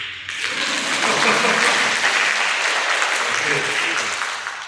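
An audience at a traditional music performance breaks into steady applause, a broad wash of clapping that swells quickly and holds before tapering, with some voices underneath.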